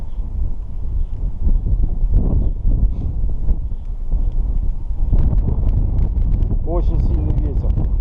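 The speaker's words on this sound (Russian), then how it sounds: "Очень сильный ветер сносит." Strong wind buffeting the microphone in loud gusty rumbles outdoors while perch fishing, with someone speaking over it.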